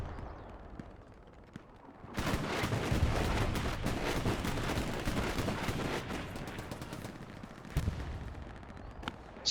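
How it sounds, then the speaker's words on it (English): Machine gun fire in the World War II shooter game Hell Let Loose swells after a quiet start into a dense, continuous crackle of distant automatic bursts and booms, loud and sustained for several seconds before easing slightly. "Starting to hear some Russian MGs going."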